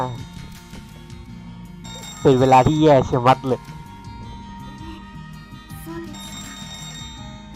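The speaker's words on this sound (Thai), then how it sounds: "แล้วแล้วโทรศัพท์ทำไมต้องมาตอนนี้วะ" A telephone ringing in the visual novel game Maitetsu, a loud burst of warbling electronic ring tones lasting about a second and a half, set against soft background music with someone talking over parts of it.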